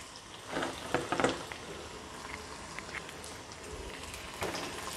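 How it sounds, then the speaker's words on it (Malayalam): Curry leaves and shallots sautéing in a pan for Kerala buttermilk curry (moru ozhichu curry), a steady soft crackle with a few louder spitting bursts near the start. "ഇനി നമുക്കിതിലേക്ക് കറിവേപ്പിലയും കൂടെ ചേർത്ത് കൊടുക്കണം."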